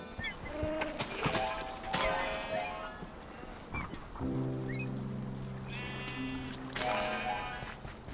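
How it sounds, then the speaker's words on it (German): Sheep bleat in the video game Minecraft Dungeons: several wavering, nasal bleats spread across the clip, with a longer, drawn-out cry in the middle over steady game ambience. "Ich hab ein Schaf."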